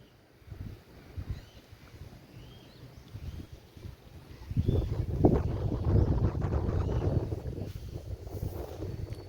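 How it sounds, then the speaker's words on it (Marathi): Monsoon wind gusts through a rural village in the rainy season, a low rumbling buffet that starts faint and swells into sustained, fairly close blustering in the second half, with faint bird calls early on. "वारा पण मित्रांनो पाऊस पण भरपूर लागतो"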